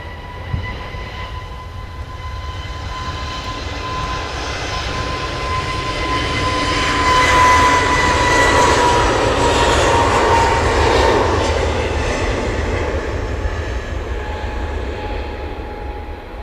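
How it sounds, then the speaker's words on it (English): An EasyJet airliner's jet engines spool up for takeoff at Manchester Airport, a broad roaring rumble with a whining tone that swells steadily and holds loud, heard from a distance without any talking. "And EasyJet spooling up, heading off."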